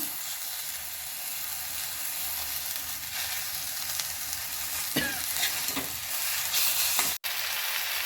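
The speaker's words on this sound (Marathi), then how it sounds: "त्याला व्यवस्थित परतून घेणार आहोत" Ambadi leaves being sautéed in a pan, with a steady sizzling hiss and occasional stirring scrapes throughout, close and continuous, ending with a brief sharp knock.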